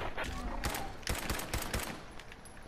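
Rapid gunfire in Fallout 4 aimed at a Red Stag Doe, a quick cluster of sharp cracks bursting out one after another, loud and close, then trailing into a softer tail.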